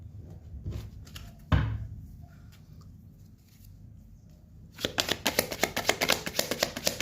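Tarot cards being shuffled close by, a soft papery riffling that starts quietly with a sharp knock partway through, then turns into a dense, loud run of rapid flicks at the end.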